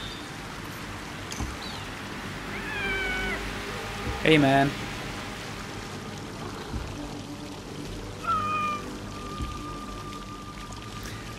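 A cat in Assassin's Creed Mirage gives a few short, close meows while being petted, over soft game ambience, with a voice speaking briefly.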